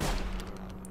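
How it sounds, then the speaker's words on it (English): Shotgun blast in the video game Sir, You Are Being Hunted: a single loud, close gunshot with a sharp onset that decays over a second, with no talking. "Wait, I'm gonna try out the shotgun."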